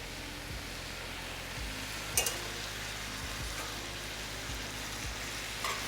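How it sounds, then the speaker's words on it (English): Marinated steak strips for fajitas sizzle in a hot pan with a steady, even hiss, broken by a few low clunks and one brief sharp crackle. "We're gonna go ahead and put our strips back in, our steak."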